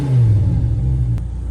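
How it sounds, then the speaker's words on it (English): A 2015 Audi R8 V10 Spyder with an X-pipe exhaust revs briefly and loudly, a deep, close engine roar that swells and then eases off, with no talking. "this car sounds absolutely incredible. It's such an iconic exhaust note for this V10."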